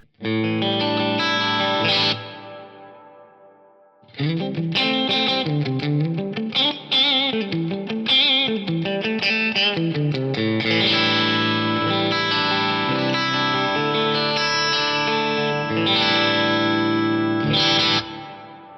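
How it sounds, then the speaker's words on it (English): Electric guitar chords and melodic lines drenched in lush reverb from an Eventide Eclipse effects unit, with a short pause before the playing resumes and rings on steadily. "If I just listen to the reverb 16, I get this."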